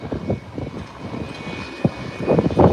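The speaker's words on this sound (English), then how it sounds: "is going to depart before the jet. So the Cessna will take a short takeoff" A Cessna light aircraft at an airport readies for a short takeoff, its propeller engine giving a steady rough drone at some distance that swells toward the end, with no talking.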